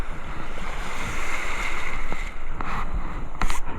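Strong sea waves churn and wash continuously along a windy shore during ultralight fishing, with heavy wind buffeting the microphone and a few sharp splashes near the end.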